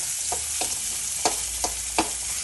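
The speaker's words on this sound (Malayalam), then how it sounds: "ഇനി നമുക്ക് ഇളക്കാം." Kappa (cassava) and chicken parts being stirred in a frying pan: a spoon scrapes through the sizzling food in about six short, evenly spaced strokes, close and moderately loud over a steady low fry.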